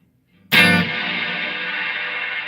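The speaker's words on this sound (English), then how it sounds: "That's a short reverb." An electric guitar chord struck through a Strymon Big Sky reverb pedal on a short reverb setting, with a Mesa amplifier, rings out loudly with a bright attack and then sustains evenly, without voices.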